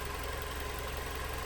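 A Mazda 6 2.5-litre engine idles, a steady, even low hum with a faint mechanical rumble, constant and fairly quiet with no voices.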